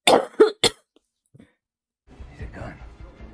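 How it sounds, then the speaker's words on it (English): Three sharp, close coughs in quick succession at the start, followed by a brief silence and then faint indoor rustling and low murmuring voices. "You're making me cough"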